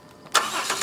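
A 2010 Dodge Grand Caravan engine started remotely from the key fob, a short cranking burst that catches into a running engine, close and fairly loud, with no talk.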